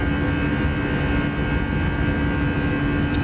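Steady, loud drone of Airbus A319 jet engines at climb power in X-Plane 12, a continuous even roar with a faint tonal whine layered on top, no talk.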